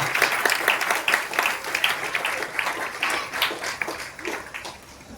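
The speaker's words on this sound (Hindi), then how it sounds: "एक बार आप सीट से खड़े हो सकते हो, उनके लिए ताली बजा सकते हो" Applause from a seated audience at an indoor business-plan presentation in Hindi, dense and steady clapping throughout, fairly loud and fading slightly toward the end.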